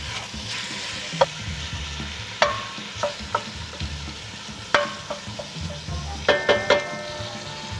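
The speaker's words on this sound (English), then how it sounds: "We're gonna brown this meat." Beef browns in a pot with a steady, soft sizzle, while a utensil scrapes and clinks against the metal in scattered sharp knocks, close by and without talk.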